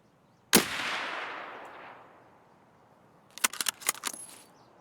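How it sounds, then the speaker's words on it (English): A single loud rifle shot cracks in Escape from Tarkov sniper practice, its echo rolling away for over a second, followed by a quick burst of metallic clicks and clinks as the weapon is worked. "you should be able to land shots right next to the prior shots"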